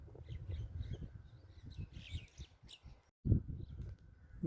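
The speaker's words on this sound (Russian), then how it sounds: "птицы поют." Small birds chirp and twitter in short, faint bursts on an early-spring day in Tajikistan, over a low outdoor rumble, with a brief louder knock near the end.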